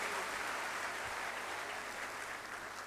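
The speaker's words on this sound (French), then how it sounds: "merci d'applaudir le ministre de la formation professionnelle" An audience at a teachers' award ceremony in Senegal applauds the minister of vocational training: steady, full clapping from a sizeable crowd, holding evenly before easing slightly toward the end.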